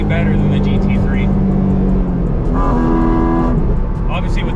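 A Porsche GT4 RS Weissach engine sounds from inside the cabin with the windows up, a loud continuous drone with shifting tonal harmonics rising and falling as revs change, steady throughout.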